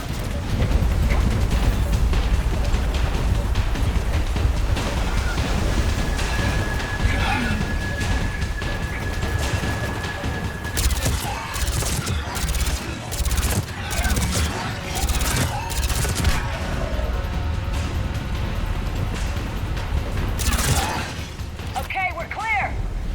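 Sustained gunfire and crashing impacts fill a firefight in the Mass Effect 3 video game, loud and continuous with sharp bursts, while voices shout over the battle.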